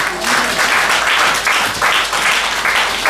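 A church congregation applauds in a steady, loud wave of clapping that fills the room and keeps going without a break, with a faint voice underneath.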